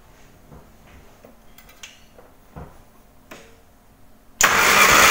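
Morris Mini Cooper engine cranking for a cylinder compression test, with a few quiet clicks and knocks at first before a loud, sudden burst of cranking noise in the final second.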